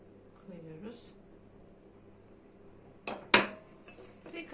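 A spoon stirs a ginger and honey cough remedy in a pot, giving soft scraping and one sharp metallic clink, with a brief spoken voice early on.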